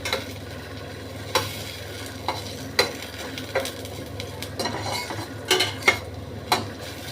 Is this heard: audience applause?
no